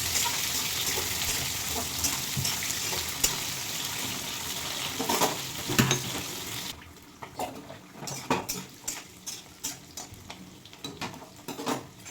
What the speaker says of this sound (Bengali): পনির আর ফুলকপি ভেজে নেবো